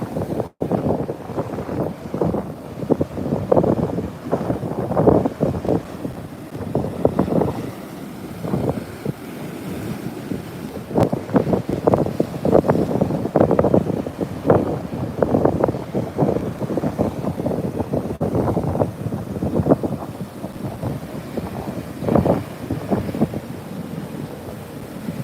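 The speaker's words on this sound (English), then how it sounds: "Wind's starting to pick up a bit here where I'm standing." Coastal wind buffets the microphone at a beach where surfers ride waves, coming in uneven rumbling gusts across the whole stretch with no talking.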